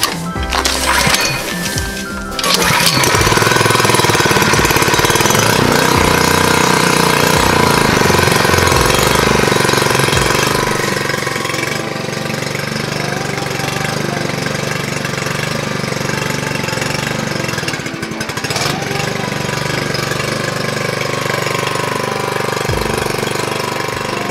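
A small go-kart engine on a rebuilt miniature kart cranks briefly, then catches and runs steadily at a loud, rough idle with a knocking mechanical clatter for the rest of the span, with no talk.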